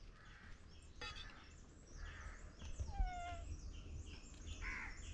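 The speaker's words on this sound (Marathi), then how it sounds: "आवाज येता आसतलो कावळ्यांचो तुमकां" Crows caw outdoors in short, scattered calls at a moderate distance over a faint background, with one sharper, nearer call partway through.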